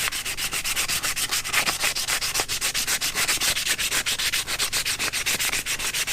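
Abrasive sanding scuffs the prop shaft seal area on a 2000 Yamaha 60hp outboard, a fast regular back-and-forth rasping repeated steadily at close range with no voices.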